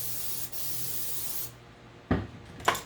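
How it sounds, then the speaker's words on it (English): Compressed air from a hose hisses in a steady blast over a dirty carburetor on a Troy-Bilt riding mower with a Kohler Courage engine, then cuts off, followed by two short bursts. "Let me spray this off a little bit."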